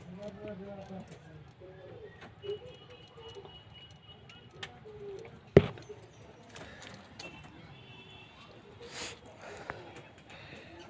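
Pigeons of the Fulsira line cooing in a home loft, soft low coos among scattered rustles and a sharp knock, with a person talking nearby.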